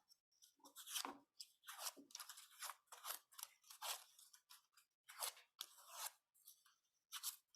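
Thin pattern paper leaves being curled and handled with scissors for a fall wreath, giving repeated crisp rustling and snipping bursts in an irregular rhythm, close and fairly faint, with no voices.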